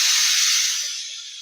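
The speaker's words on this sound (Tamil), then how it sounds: "வெங்காயம் நல்லா வதங்கி வரட்டும்." Long-sliced large onions sizzle loudly in hot oil for a mushroom biryani, a steady bright hiss that fades slightly before cutting off abruptly.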